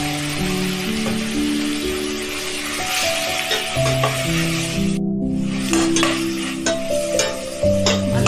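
Tomatoes tossed into a hot pan for egg masala semiya give a loud, continuous sizzle with stirring scrapes, while light music plays underneath.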